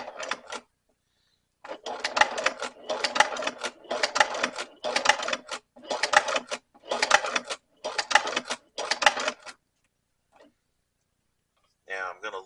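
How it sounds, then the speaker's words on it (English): Sewing machine stitching a leather dog leash, running in about eight short, even bursts with brief pauses between them, fairly close and clear, with a faint click at the end. "I'm going to try to stitch right on the edge of my presser foot and see if I can't follow that."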